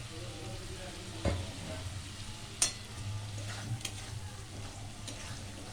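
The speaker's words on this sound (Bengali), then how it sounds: "এরপর এই যে কড়াইতে আস্তে আস্তে যে তেলটা ছেড়েছে এই সময়টা আমি এই আলুগুলোকে দিয়ে দেবো এর মধ্যে।" Soft, steady sizzling of fried potatoes going into hot oil in a wok while boal fish curry cooks, with a low hum and a few brief clanks and taps over the quiet frying.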